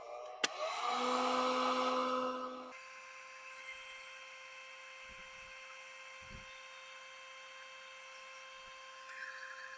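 A hot air heat gun blows on glue-lined heat shrink tubing over wiring on a 7.3L Power Stroke diesel, a close whooshing blast with a whining fan for about two seconds, then a quieter steady electrical hum with occasional faint knocks.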